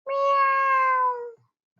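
A single clear, drawn-out meow with rich harmonics, loud and close, fading after about a second; sounds like a voice imitating a cat.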